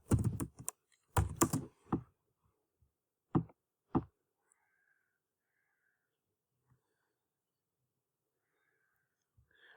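Typing on a computer keyboard while filling in a business account form: several quick bursts of keystrokes in the first few seconds, then a couple of isolated taps, followed by near silence with faint room noise.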